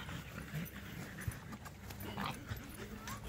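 Several mini cream French Bulldogs making soft snuffling, grunting dog sounds amid a busy room, with a few short thumps and scuffles; close and fairly quiet.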